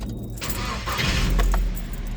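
A 2001 Nissan Frontier's fuel-injected engine is started with the hood up: a brief low cranking rumble catches into a steady running engine, close and fairly loud, with a light metallic jingle near the start.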